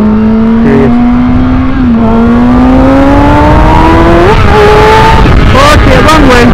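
A Kawasaki Ninja ZX6R motorcycle engine drones loud and close while riding, its pitch climbing steadily through the revs with brief dips at gear changes, over heavy wind rush.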